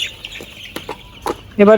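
Short clucks and scratchy bird calls from layer chickens at a poultry farm nearby, a few scattered bursts, ending with a louder voiced sound close to the microphone.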